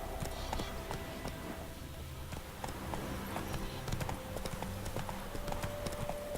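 Horse hooves clip-clopping in The Witcher 3 video game, a steady rapid run of close, crisp hoofbeats over a soft background hum.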